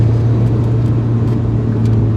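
A Mazda 323 GTX, a rally-style car that makes little power below 4,000 RPM, gives a loud, steady engine drone close by, with no voices over it.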